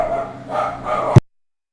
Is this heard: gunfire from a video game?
no